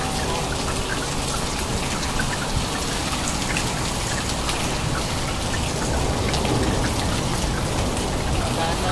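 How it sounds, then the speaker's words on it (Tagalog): Heavy rain pours down in Saudi Arabia, a loud, dense and unbroken hiss of drops striking surfaces, steady from start to finish. "Lakas ng ulan guys"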